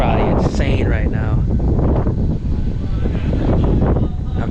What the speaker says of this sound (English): I know the wind is probably insane right now